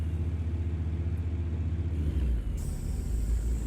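A heavy truck engine in American Truck Simulator labors uphill under load, a steady low rumbling drone that deepens and grows rougher toward the end as the revs climb.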